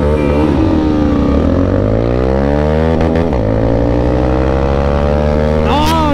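Benelli TNT25N and Pulsar N250 motorcycles accelerating hard in a race, the engine note climbing and falling through gear changes, loud and close throughout, with a voice briefly speaking near the end.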